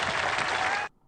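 Crowd applauding at a political rally, a loud, steady burst of clapping and cheering that cuts off abruptly after under a second.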